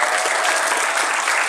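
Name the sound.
audience applause for guest of honor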